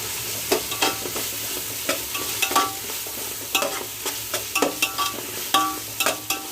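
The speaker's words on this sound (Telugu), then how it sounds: "ఈ అల్లం వెల్లుల్లి పేస్ట్ కూడా బాగా వేగితే ఆయిల్లో" Ginger garlic paste fries in oil with cooked onions and tomatoes for prawn biryani, a low sizzle under repeated spatula scrapes and taps on the pan, close and irregular.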